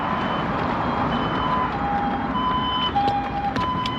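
An ambulance siren wails in a rising and falling tone over steady traffic and street noise, moderately distant and continuous, with no talk over it.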